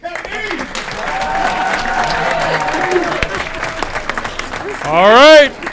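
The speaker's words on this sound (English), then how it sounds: "Another round of applause for Kevin E." Steady audience applause at a city council meeting, a continuous wash of clapping with crowd voices mixed in and a brief loud whoop or cheer near the end.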